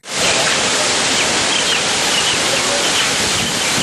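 Heavy rush of dam water, about 26,000 cusecs released through a hydroelectric power station's generating units, roars as a loud, steady broadband wash that fills the whole clip without letup.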